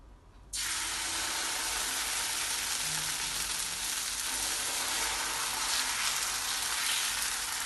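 Dosa batter hitting a well-heated dosa griddle, bursting into a loud, sustained sizzle after a brief quiet start and hissing steadily to the end with no talk.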